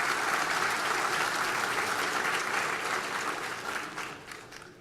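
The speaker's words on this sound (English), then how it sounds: "So if you all can give him a round of applause" A conference audience at an industry forecast event gives General Lynn a sustained round of applause, thick and steady at first, then thinning and fading toward the end.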